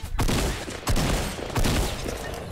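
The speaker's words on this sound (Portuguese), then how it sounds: "Tiros! Ouço tiros!" Gunfire in the video game Fortnite, arriving as three loud bursts of rapid shots in quick succession with no voices over them.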